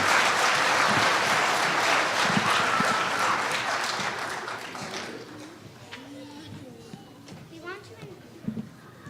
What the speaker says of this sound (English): I just want us to give a round of applause to all of our student speakers from tonight.